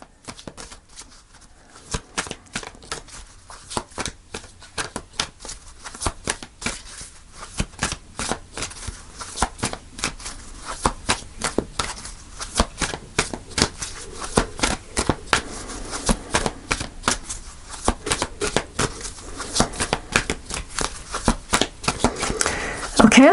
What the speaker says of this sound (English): Do a couple more shuffles if it doesn't fall out.